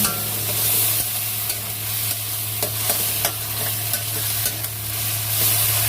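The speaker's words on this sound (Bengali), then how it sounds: "মশলাটা আদা রসুন আর পেঁয়াজ বাটা যেটা ছিল সেটা দিয়ে দিলাম দিয়ে এবার ভালো করে কষ্ট" Ginger-garlic-onion paste masala sizzles steadily in oil in a kadai, with intermittent scraping and stirring clicks from a spatula, close and continuous with no talking.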